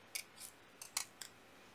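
Scissors trimming a paper template piece for a stained glass layout: five quick, crisp snips in an uneven rhythm, close and quiet, with no talk.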